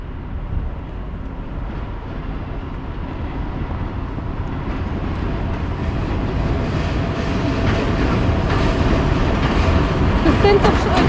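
A delayed TLK Małopolska train rumbles steadily into a Polish station platform, its low roar growing slightly louder with faint rail clatter, continuous with no pauses.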